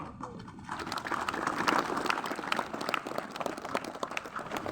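Students at a university campus in Nabire applauding their rector, the clapping faint and distant, mixed with murmuring voices in the crowd.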